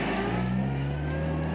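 A modified 550+ hp 2005 Dodge Neon ACR engine accelerates on the road, giving a loud, steady, close drone with a rising pitch throughout and no talking.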